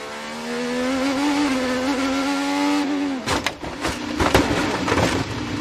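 An IndyCar race car engine heard from onboard, a loud high-pitched whine holding steady before abruptly cutting off into crunching, rattling impact noises and scraping debris.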